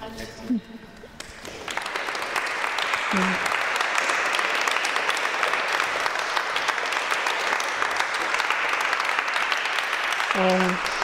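Audience applause following an art talk about a contemporary artist's exhibition, a dense, steady wash of clapping that swells in after a brief pause and holds loud throughout, with faint voices at the start and end.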